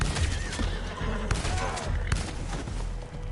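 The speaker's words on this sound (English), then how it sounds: "Y'all pissed my horse off now." An angry horse whinnies loudly in a Wild West video game, a shrill close neigh over hoof clops, thuds and a busy game soundscape, with a voice speaking faintly.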